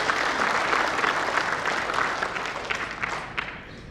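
An audience at a government ceremony for Indonesian migrant worker volunteers in East Nusa Tenggara claps in a dense burst of applause that gradually thins and fades out.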